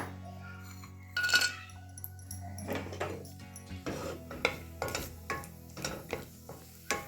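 Cashews frying in ghee in a pan, with a light sizzle under a series of spoon-on-pan clinks and stirring knocks spaced roughly every half second, plus a low steady hum in the background.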